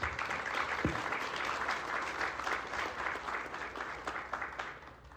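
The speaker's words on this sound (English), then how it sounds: "Let's give them all a round of applause." An audience at a Louisa County Chamber of Commerce resource panel claps for the panelists, a steady, moderately distant round of applause sustained across the whole stretch, with no talk over it.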